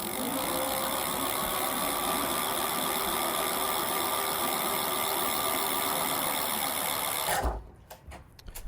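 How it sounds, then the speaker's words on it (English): A Lectric Xpeak electric bike's 750-watt hub motor runs with a steady, close mechanical whir for about seven seconds, then stops abruptly, leaving a few faint clicks. "Now here's the Xpeak motor."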